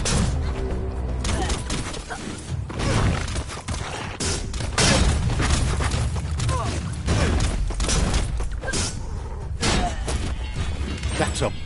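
Bomb lobber explosions in the video game Biomutant, a dense, continuous barrage of crashing and shattering blasts mixed with game effects and talk throughout.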